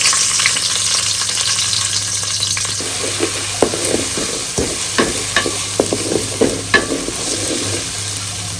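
Panch phoron spices and green chillies frying in hot oil, a dense loud sizzle throughout with sharp crackles and stirring taps growing more frequent toward the end.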